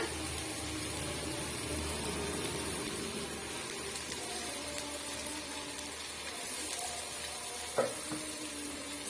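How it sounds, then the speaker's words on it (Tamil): Chicken pieces dropped into a hot pan for a roadside-style Tamil chicken gravy, sizzling softly and steadily with a few faint clatters near the end and no talk. "நல்லா அலசி வச்சிருக்க சிக்கன் பீஸுகளை இதோட ஆட் பண்ணிடலாம்"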